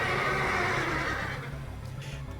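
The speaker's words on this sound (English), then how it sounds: "That is a horse neigh." A video game horse whinnies in a long, wavering neigh that tapers off, followed by a short sharp sound at the end.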